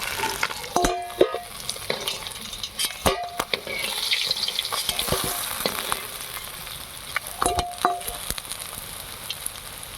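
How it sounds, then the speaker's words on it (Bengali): Tilapia fish frying crisp in hot oil, a close, continuous sizzle broken by sharp crackles and pops, with a few knocks of a utensil. "এখানে মাছটা ভাজা হয়ে গেছে এখন কড়া করে ভেজেছি"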